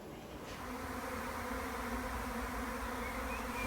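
A honey bee swarm leaving the hive gives a dense, steady buzz of many wings, close and continuous throughout with no voices.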